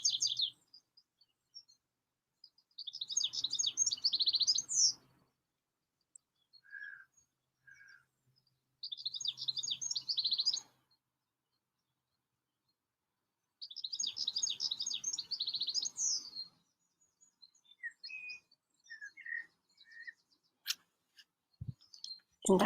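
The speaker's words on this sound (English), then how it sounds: "I just thought I'd share the sounds of the birds first thing." Bursts of high, bright morning birdsong come in several phrases separated by quiet gaps, with scattered chirps and a few sharp clicks near the end.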